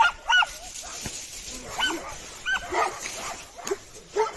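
Several dogs bark and yip in short, irregular bursts at moderate distance at an abandoned house in Samsun, Turkey, over a noisy outdoor background.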